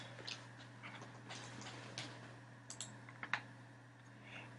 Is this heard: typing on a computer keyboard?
yes